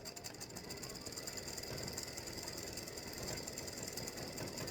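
An embroidery machine stitches a ribbon loop on a freestanding lace earring, giving a steady, dense mechanical whir and rapid needle patter that runs close and continuous throughout, with no talk.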